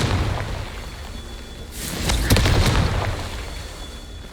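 A fiery Confringo spell blast bursts out mid-battle in Hogwarts Legacy, a sudden loud boom with a crackling, whooshing tail rising over ongoing game noise.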